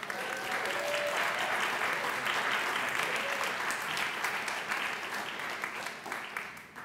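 Audience applause at a UCSB lecture welcoming a speaker, steady clapping from a full room that holds for several seconds before tapering off.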